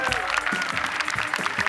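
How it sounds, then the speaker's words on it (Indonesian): A studio audience at an Indonesian Idol talent show claps in a quick, rhythmic burst, the claps loud and close and mixed with crowd noise and voices. "tepuk tangan dong."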